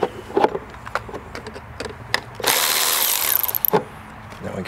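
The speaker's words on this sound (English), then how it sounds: "Then get yourself a 10 millimeter. Go ahead and disconnect the ground first." A 10 mm wrench loosens the ground terminal on a 2004-2013 Mazda 3 battery, giving sharp ratcheting clicks and a roughly one-second run of fast rattling, close and fairly loud.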